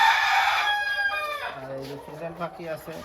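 A rooster at a village homestead in Chauddagram, Comilla, Bangladesh lets out one loud, close crow, and people start talking right after it ends.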